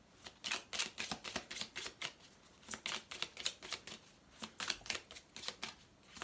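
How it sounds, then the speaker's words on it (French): Tarot cards shuffled for a nine-card spread, a close, quiet run of crisp riffling bursts in quick irregular succession with no voices. "Ok, tirage en 9 cartes."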